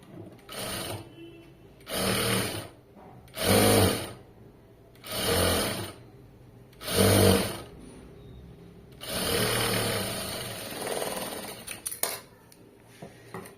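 A sewing machine stitches a garment sleeve in about six bursts of rapid whirring and needle clatter, each lasting a second or two, separated by short quiet pauses and ending with a longer run.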